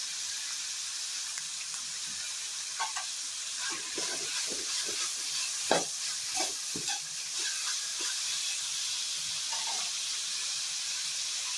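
Onions for beef varuval fry in a pan with a soft, steady hiss and sizzle, broken by a cluster of spoon scrapes and knocks of stirring in the middle.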